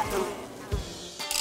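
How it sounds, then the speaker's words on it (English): Angry bees buzz in a brief, close, dense whine that swells and fades in quick bursts, with no talking. "Bees! They're so angry!"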